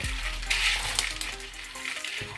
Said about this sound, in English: And then just put them into boiling water,